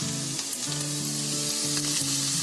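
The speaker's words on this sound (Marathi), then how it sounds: "हळूहळू त्याला फ्राय करू द्यायचं आहे." Chopped garlic, about ten to twelve cloves, frying slowly in oil over medium heat, with a close, steady sizzle and faint stirring, no talk.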